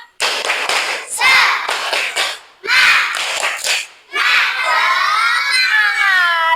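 Indonesian schoolchildren perform the tepuk semangat chant in a classroom, loud shouted bursts with rhythmic clapping in three phrases, ending in a long drawn-out group cheer.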